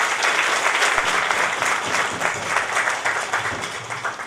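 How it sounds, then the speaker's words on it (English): Conference audience applauding, with dense, sustained clapping that fills the whole stretch at a steady loudness without a break. "I request you all kindly give the huge round of applause for"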